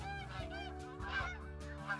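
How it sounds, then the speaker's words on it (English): Geese honk repeatedly while flying in over a hunting field, a busy overlapping chorus of calls that sounds fairly close and continuous. "Oh, we got more geese coming in."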